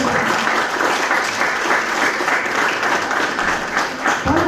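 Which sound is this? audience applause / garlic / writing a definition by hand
audience applause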